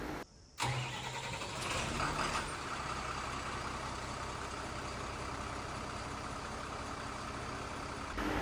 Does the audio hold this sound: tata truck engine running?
yes